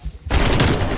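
Rapid video-game gunfire bursts in suddenly after a quiet moment, a dense, loud rattle of shots filling the rest of the brief clip.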